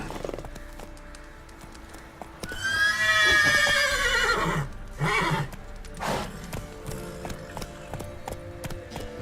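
Roach, a horse in The Witcher III, gives a loud, drawn-out whinny followed by a few shorter snorts and neighs, with steady hoofbeats clip-clopping beneath.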